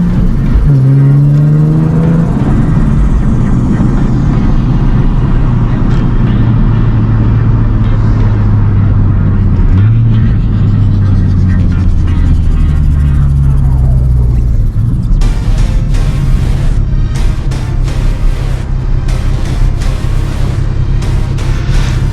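A Nissan 370Z engine, freshly fitted with a 30-row oil cooler, runs loud and close with a deep steady rumble, its pitch rising and falling through revs, with no talking.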